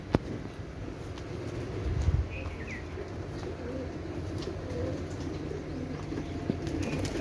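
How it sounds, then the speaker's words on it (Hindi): Pigeons coo in low, repeated murmurs as they emerge from their coop, with a burst of wing flapping near the middle and light chirps over steady outdoor background noise. "ये अभी दोस्तों सारे भी जो परिंदे हैं वो बाहर आना स्टार्ट हो गए हैं।"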